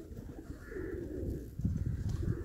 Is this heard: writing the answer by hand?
no